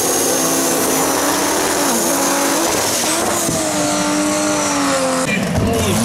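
Race car engines of over 1,500 horsepower roar continuously at close range at Velopark, loud and steady, with shifting engine pitch and some tire squeal.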